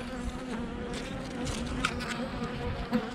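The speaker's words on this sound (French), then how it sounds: "Les abeilles sont un peu casse-bonbon." Honey bees buzzing around a lost swarm, a continuous close droning hum with individual bees flying past the listener now and then, set outdoors.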